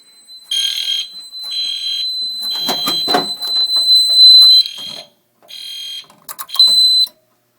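A loud, shrill fire alarm blares in repeated bursts after a pull station is activated, with clicks and clatter partway through and brief gaps between the blasts.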